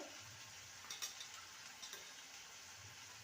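Bitter gourd frying with ground coriander and cumin as it is stirred in a pan: a faint, steady sizzle under soft scrapes of the spoon, with a couple of brief clicks and no voices.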